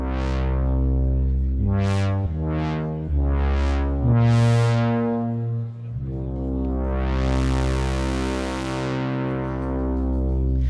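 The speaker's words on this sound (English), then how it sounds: "I'm just going to control the filter cutoff using one of the controls" Sustained synthesizer notes from a Yamaha YC61 stage keyboard with a filter cutoff repeatedly swept open and closed, brightening and dulling the tone in several rising and falling waves, ending with a long slow sweep.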